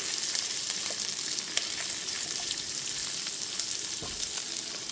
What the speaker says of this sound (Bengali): আদা বাটাটা 30 থেকে 40 সেকেন্ড ধরে একটু নাড়াচাড়া করে নেওয়ার পর তারপর পেঁয়াজ কুচিটা দিয়ে দিচ্ছি।